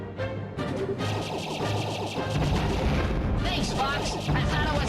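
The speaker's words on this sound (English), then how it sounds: "Cornelia Army now commencing third volley of cannon fire." Cannon volleys booming through a Star Fox space battle on the Nintendo GameCube, dense and continuous with layered explosions and engine roar, while voices talk over the action.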